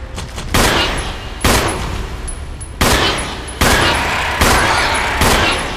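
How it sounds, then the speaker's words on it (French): Gunfire in the video game Resident Evil: a handful of loud, booming shots fired at uneven intervals, each with a long, rolling tail, heard close and alone without talk. "Je leur tire dessus avec un flingue parce que je suis obligé."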